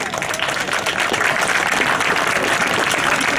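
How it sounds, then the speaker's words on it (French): A large outdoor crowd at a town bean festival in Soissons applauds steadily, a dense, loud wash of clapping that holds evenly throughout with no voices standing out. "je crois qu'on peut les applaudir."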